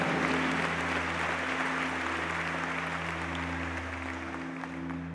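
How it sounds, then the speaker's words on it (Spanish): Church congregation applauds in a continuous, even wash of clapping over a steady low hum, moderately distant and fading slightly toward the end. "Dele un aplauso fuerte al Señor"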